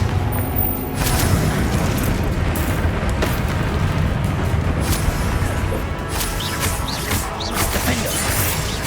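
Repeated blasts of the Confringo fire spell in Hogwarts Legacy, a string of booming impacts and crashes during a hectic duel, with little pause between hits.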